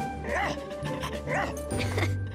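A cartoon rescue dog gives a few short, yippy barks and whimpering yelps in quick succession, close and fairly loud over a low background hum.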